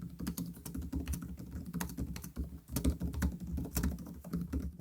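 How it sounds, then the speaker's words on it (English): Steady, thumpy keystrokes on an Asus TUF A14 gaming laptop keyboard, rattling along in a continuous close-up run of typing with occasional heavier presses, no voices. "my favorite keyboard for typing of all time"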